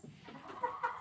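Hens on a farm on a frozen, wet day, cackling and clucking in short uneven bursts at close to moderate range, with one louder call near the end.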